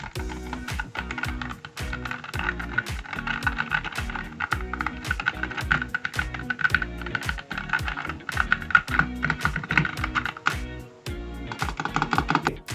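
Quick, uneven keystrokes patter on an Ant Esports MK1200 Mini 60% mechanical gaming keyboard fitted with quiet red switches, a dense run of soft clicks and thocks at close range with brief pauses between bursts.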